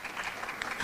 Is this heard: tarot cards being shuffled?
no